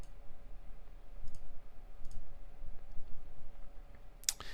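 Computer mouse clicks sound in a quiet room, a few faint sparse clicks with one sharper click near the end.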